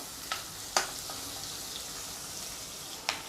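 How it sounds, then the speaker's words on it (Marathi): Onion and crushed curry leaves fry in a pan for an elephant foot yam dish, giving a steady soft sizzle with a few sharp spatula clicks and taps against the pan. "कांदा थोडा नरम होईपर्यंत छान असा परतून घ्यायचा"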